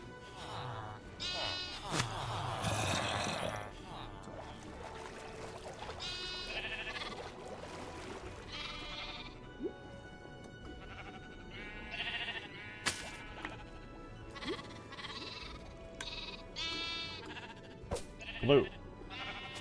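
Sheep bleat repeatedly in Minecraft on an underwater sheep farm, with many overlapping calls at varying distances over a busy game background and occasional clicks.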